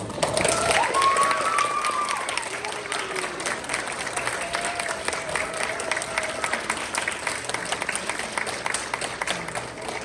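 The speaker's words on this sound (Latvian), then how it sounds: "šie cilvēki ir pelnījuši vislielākos aplausus" An audience at a Latvian community award ceremony in Ireland breaks into sustained, even applause that stays fairly loud for about ten seconds, with faint cheering and voices underneath.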